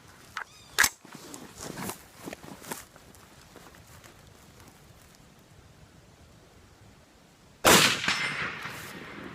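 A 300 Blackout rifle fires at a steel target outdoors, giving a sharp crack early and a loud report near the end, with faint scuffing and handling noises between.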